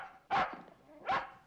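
A dog in a crime drama gives two sharp, close barks spaced under a second apart, loud and clear against a quiet background.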